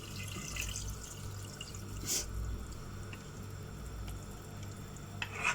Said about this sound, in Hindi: तो 4 कप पानी इसमें हम ऐड कर देंगे।